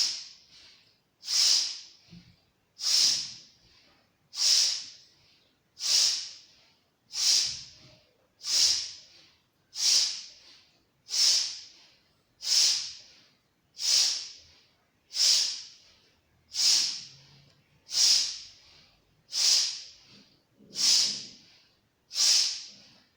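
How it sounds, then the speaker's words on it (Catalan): Steady, rhythmic forceful breathing in a Kundalini yoga class, with about fifteen sharp, hissy exhalations at regular intervals of roughly one and a half seconds, fairly quiet and close, with no talking. "Si voleu ficar respiració de foc, i fiqueu respiració de foc."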